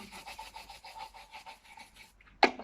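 Small cleaning brush scrubbing corners during cleaning, a rapid rhythmic bristle scratching close by for about two seconds, ending with a short sharp knock.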